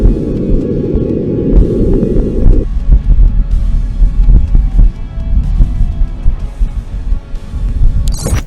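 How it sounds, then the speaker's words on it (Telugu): Wind on Mars, picked up by the microphone on NASA's Perseverance rover, comes through as a low, muffled, gusting rumble that rises and falls in uneven pulses, with no speech. "మరోసారి వినండి మార్స్ పై గాలి సౌండ్ ని."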